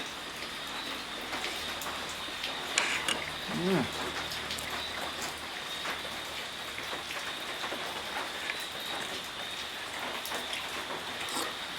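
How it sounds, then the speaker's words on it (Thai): Steady rain falls outdoors in a Thai setting, a dense even patter of drops on surfaces throughout, with a brief voice-like murmur partway through. "ฝนมันตก"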